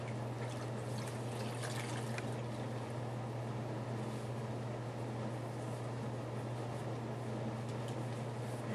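Water rinsing during female perineal care of a patient with a catheter, heard as a steady, faint trickle and pour that runs unbroken throughout with no talk.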